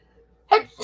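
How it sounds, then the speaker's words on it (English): A person sneezes once, a sharp burst of breath, with a second rising burst following just after, close to the microphone in a quiet, dusty room. "I'm gonna sneeze."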